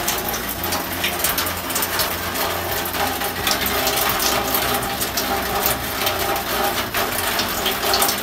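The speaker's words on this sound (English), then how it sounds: "the water is flowing from this stone" Water pours from a stone spring at Wat Phou in Champasak, Laos. The constant, close splashing gush is fairly loud and fills the whole span, with no talking over it.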